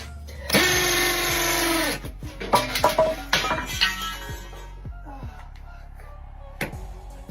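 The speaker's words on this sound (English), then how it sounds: "She grabs a power drill like she knows what she's doing." A power drill whirs loudly and steadily for about a second and a half, then cuts off, followed by a scatter of clattering, knocking handling sounds that fade toward quiet.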